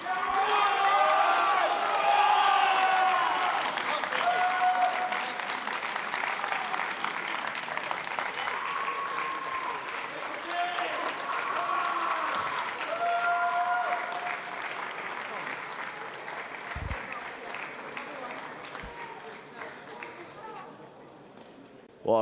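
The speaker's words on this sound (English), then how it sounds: "Let's give him a round of applause." Audience at a national karting championship awards ceremony gives sustained applause, a dense rattle of many hands continuing for about twenty seconds, gradually thinning toward the end, with some cheering mixed in.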